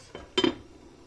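A metal lid is set back onto a cooking pot of pumpkin dessert simmering in sugar, giving a light clink and then a louder double clatter close by, with no talk.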